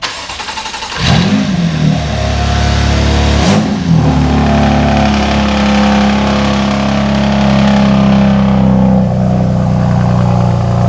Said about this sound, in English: Your car is too loud.